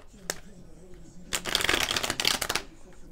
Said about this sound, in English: I do like to shuffle on camera just to get the energies going.